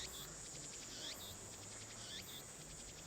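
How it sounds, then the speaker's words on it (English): A cricket chirps in short, evenly spaced pulsed trills, repeating several times, fairly faint over a steady background hiss, with no voices. "Annoying because I hear this dang cricket."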